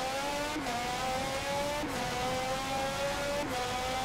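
In the video game Forza Motorsport 7, IndyCar race cars scream past one after another, high engine whines sweeping down in pitch about every second and a half over continuous racing noise.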